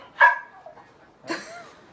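A sleeping dog barks in its dream: two short muffled woofs about a second apart, fairly close and soft, in a quiet room.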